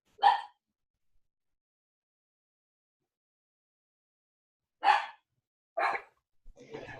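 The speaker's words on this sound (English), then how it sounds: "dogs, if you hear them barking in the background," A small indoor dog, stirred up by thunder, gives a sharp bark, falls silent for several seconds, then gives a few more barks in quick succession. The barks are fairly close and stand alone without talk.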